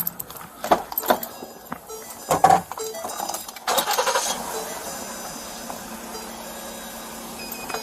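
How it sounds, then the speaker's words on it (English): A car engine cranks and catches after a few clicks and clunks, then settles into a steady idle hum that carries on under faint background noise. "I'm gonna get this car on and get the window down."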